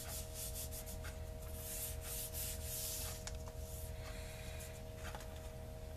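Paint being rubbed and smeared by hand across old book paper, a steady soft scraping hiss that runs continuously and close for the whole stretch.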